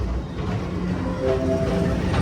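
The Magic Kingdom PeopleMover ride train rolls along its elevated track in Tomorrowland with a steady low rumble, faint rhythmic clicks and a few brief tonal hums from the cars, heard up close without talk.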